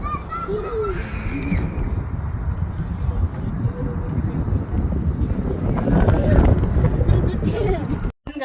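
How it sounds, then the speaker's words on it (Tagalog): Strong outdoor wind buffeting the microphone with a constant low rumble, loud throughout, while people talk and children's voices sound in the background. "grabe sa labas, sobrang hangin."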